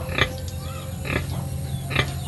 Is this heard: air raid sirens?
no